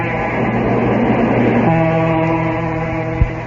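A rumbling, droning train-like noise with steady tonal hum, loud and continuous, ending with a single short thump.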